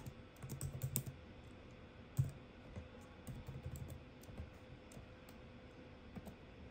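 An email address is typed into a phone app, producing quiet, close key taps and clicks in irregular bursts with pauses, alone with no talk.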